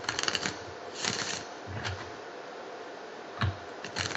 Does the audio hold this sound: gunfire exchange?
no